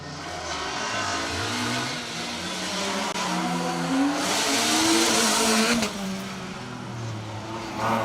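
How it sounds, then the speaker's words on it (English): Mitsubishi Lancer 90s Group N rally car on a Lincolnshire Wolds stage, engine droning loudly and fairly near with shifting revs and a possible tyre squeal, continuous throughout with no talk. "Matthew Sample, Rachel Sample alongside in their Mitsubishi Lancer"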